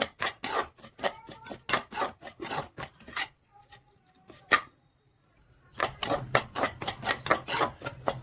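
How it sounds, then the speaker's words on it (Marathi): Coarse cracked wheat rava being roasted and stirred in a pan over low gas, a steady rhythm of scraping, rasping strokes with a brief quiet pause in the middle before the stirring resumes. "आपला रवा भरडा भाजत आला आहे"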